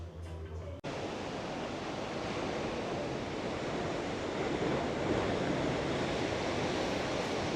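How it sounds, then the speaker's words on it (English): Ocean waves surge and break at Nazaré, Portugal, a dense roar of surf that builds steadily after a brief cut at the start, heavy with wind buffeting the microphone and no voices. "Seems to be a bit further out the waves now. Must be with the tide turning."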